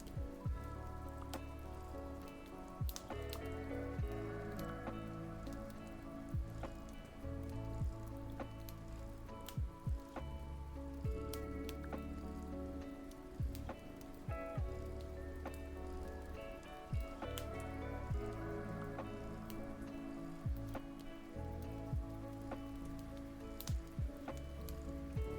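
Steady rain patters evenly with scattered sharper drops, continuous and soft, over a faint low hum.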